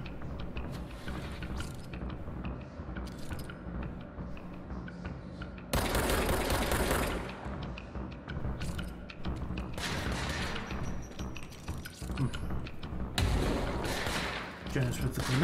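Guns fire in the shooter game Control in dense, rattling bursts that swell and ebb across the stretch, loud and close, with a voice speaking over the combat.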